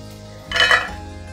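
Roasted peanuts are tipped from a pan onto a plate, a single short clatter of metal and a rattling spill lasting under half a second against a quiet background.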